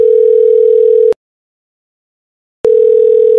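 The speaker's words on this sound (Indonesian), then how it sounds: "Oke gue telepon ya." A telephone ringback tone sounds while a call is placed. One steady, loud tone runs for about a second, then a pause follows and the tone starts again, with no talk.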